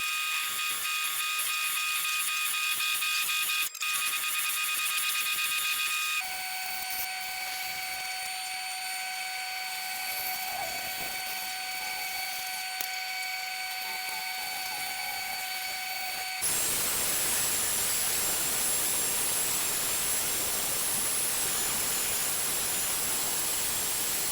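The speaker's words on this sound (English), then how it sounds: "I'm going to use a Forstner bit on the drill press, and we're going to drill out that curve" A drill press turns a Forstner bit through wood for a boomerang, followed by a bandsaw making a straight cut. Both give steady, close mechanical whines that shift in pitch between machines.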